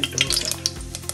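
Onion drops into hot oil with whole spices for mushroom biryani, sending up a short burst of crackling sizzle with a few stirring clinks, close and lively, with no talking.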